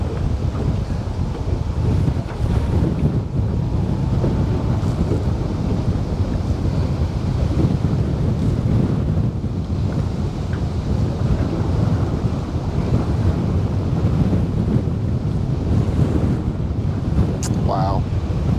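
Strong wind of 30 to 40 mph gusts over a boat on the water, a constant roaring buffet on the microphone with choppy surf underneath, continuous and close for the whole stretch.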